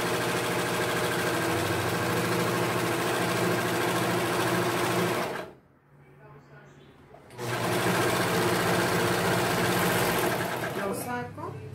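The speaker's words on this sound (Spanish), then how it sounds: "¿Se dan cuenta qué bonito remalla esta máquina?" An overlock sewing machine serging light-coloured fabric runs in a loud, fast, steady mechanical whir, stops abruptly for about two seconds of near quiet, then starts up again and runs on, close up.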